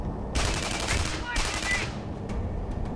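Two bursts of rapid gunshots ring out in Tribes Ascend on the Tartarus map, each a loud volley about a second long, followed by a few faint scattered shots.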